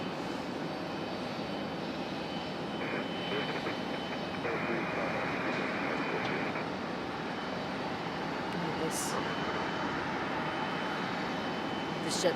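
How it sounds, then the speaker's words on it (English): A JetBlue Airbus A220 arriving from JFK at Raleigh-Durham International Airport gives a soft, distant, steady engine rumble, with people talking over it. "This JetBlue is an A220 coming in from JFK."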